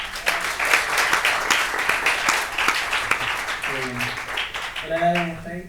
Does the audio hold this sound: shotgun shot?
no